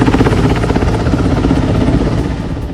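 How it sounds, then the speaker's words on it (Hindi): A CRPF Mi-17 helicopter hovers during a flood rescue on a swollen river, its loud, continuous rotor thump and turbine roar filling the whole stretch up close, with no voices. "जो अपने MI-17 हेलीकॉप्टर के साथ पहुंचा और फिर शुरू हुआ"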